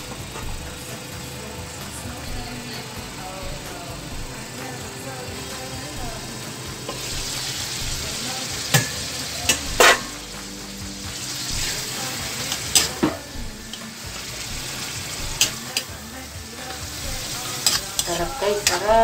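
Dried labahita fish for sarciado frying in a pan while being stirred, a steady close sizzle with scattered scraping knocks of the utensil growing more frequent toward the end.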